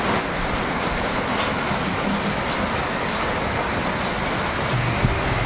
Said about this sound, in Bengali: আর প্রচুর পরিমাণে মুষলধারে মানে বৃষ্টি হচ্ছে।